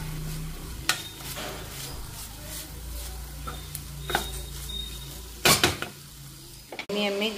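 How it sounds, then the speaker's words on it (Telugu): Spice powder gets stirred into cluster bean curry in a pan, with soft sizzling under a low hum and several sharp spoon clanks against the metal, the loudest pair coming near the end. "ఇప్పుడైతే ఆ పొడి వేసి కలిపి మళ్ళీ ఒక 2-3 మినిట్స్ మగ్గిస్తాను"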